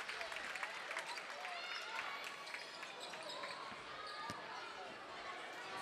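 High school girls' basketball crowd on senior night giving a standing ovation, sustained applause and cheering in a gym with occasional ball bounces, moderately distant.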